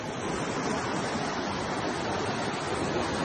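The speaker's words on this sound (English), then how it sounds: "The Westfield River. It's flowing good today." The West Branch of the Westfield River, running high, gives a steady, loud, full-band rush of flowing water that holds even and unbroken throughout, with no voices.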